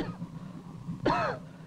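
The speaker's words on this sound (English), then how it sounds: "Excuse my coughing." A single sharp cough, close and fairly loud, rising out of quiet room tone with a faint throaty rasp before it.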